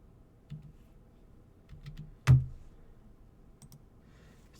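Typing on a computer keyboard: a few scattered soft key clicks and one sharper, louder keystroke, close and quiet with no speech.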